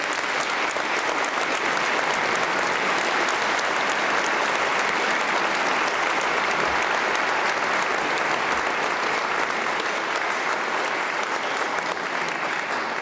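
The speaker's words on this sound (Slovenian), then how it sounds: "Tako da en aplavz za PMB" Steady, sustained applause from a sizeable audience, loud and even throughout, with no talking over it, at a New Year gala concert.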